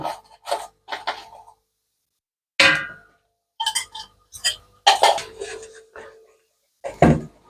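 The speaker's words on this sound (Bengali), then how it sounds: "এভাবে আটাগুলোকে বেকিং পাউডার সহ চেলে নিচ্ছি" Flour and baking powder being sifted through a sieve for cake batter, a series of short scraping, tapping and rattling bursts separated by brief silences, close up with no talk.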